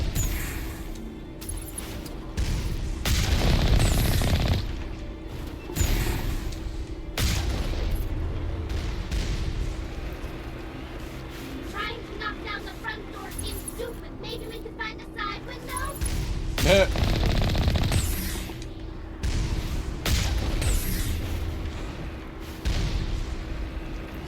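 Turret gunfire in the video game Mass Effect Legendary Edition, dense rapid bursts and booming shots that keep going almost without a break throughout, loud with a steady background drone and some louder blasts.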